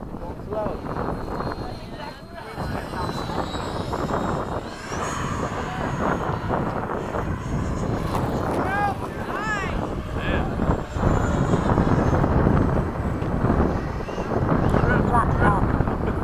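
A Freewing 80mm F-5 RC model jet flying overhead at midday, its steady ducted-fan whine rising and falling over wind noise, with people talking nearby throughout.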